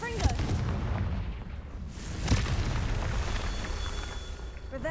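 A Confringo blasting spell goes off in the Hogwarts Legacy video game during Merlin trials, with two loud booming blasts, one near the start and another midway, over a dense rumbling roar.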